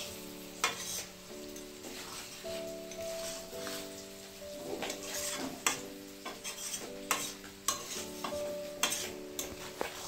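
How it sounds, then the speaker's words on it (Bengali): American fish fries in a pan in a home kitchen, giving off a constant bright sizzle. Sharp clinks and scrapes of a spatula stirring and turning the pieces break in every second or so, close by and without talk. "মাছ ভাজছি, এটা আমেরিকান মাছ আছে"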